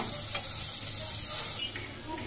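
Eggplant slices frying in oil with turmeric give a steady, quiet sizzle, with a brief stirring clink near the start and no one speaking.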